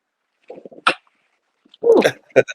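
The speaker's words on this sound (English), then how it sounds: "I have to sneeze." A short sneeze with a sharp burst of breath, preceded by a few quick inhaled catches and followed by another brief breathy sound.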